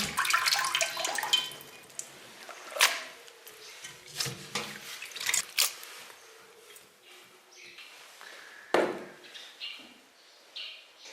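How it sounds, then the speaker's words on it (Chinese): Running tap water splashing over grass carp fish meat and bones in a kitchen sink, with irregular splashes, clatters and bursts of flow, fairly faint and uneven, no talking. "咱把这鱼肉跟那个鱼骨，咱给它洗干净。"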